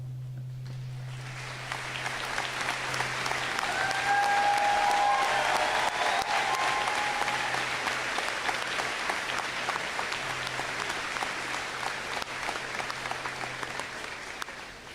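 A large audience at a high school commencement ceremony applauds standing veterans; a dense, sustained roar of clapping swells after a quiet start and holds steady for about fifteen seconds, with a low steady hum underneath.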